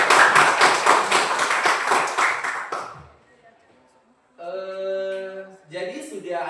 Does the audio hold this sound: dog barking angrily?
no